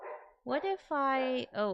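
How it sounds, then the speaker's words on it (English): A pet dog barks several times close by in a home office, loud harmonic yelps and barks, with a person speaking briefly at the start. "you might hear my dog barking."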